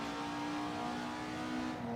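Race car engine from the F3 Classic Tracks video game drones at high steady revs, loud and continuous, with a sustained pitch and no speech.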